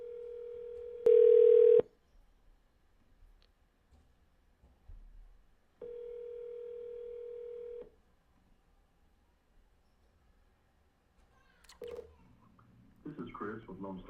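Outgoing telephone call ringing, two long steady electronic ring tones with a silent pause between them, then a little room noise and the start of a recorded voice answering.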